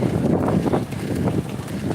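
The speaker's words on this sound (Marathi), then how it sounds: "वारा बघा" Gusty wind buffeting the microphone in a continuous rumbling roar, loud and close, with no talking.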